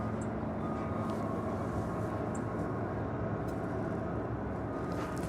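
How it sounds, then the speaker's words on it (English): Steady low rumble of a Qantas Airbus A380 airliner taxiing toward the international terminal at Los Angeles airport, a continuous broadband drone heard from a distance with no talk. "this is Qantas Flight 11, the A380 Super making her way to Tom Bradley International Terminal"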